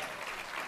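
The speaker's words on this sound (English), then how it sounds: "Big round of applause." Brief burst of audience applause at a film editors' awards ceremony in Toronto, a continuous wash of many hands clapping, moderately faint and heard alone.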